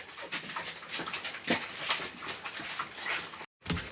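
A hungry dog whimpers and pants close by in short, uneven bursts, fairly quiet, with no speech over it.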